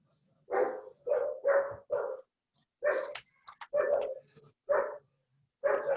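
Pet dogs bark close by in a home, giving about nine sharp barks in quick clusters with short pauses between them.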